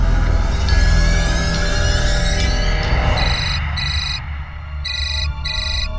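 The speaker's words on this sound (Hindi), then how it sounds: "तेरी मम्मा का फोन है, चुप रह।" A mobile phone ringtone plays loud and close in a domestic scene, a repeating electronic melody that keeps sounding in short beeping bursts.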